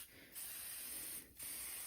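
Two bursts of spray starch hiss onto a crochet doily pinned on foam board, a long close spray followed by a brief pause and a second spray.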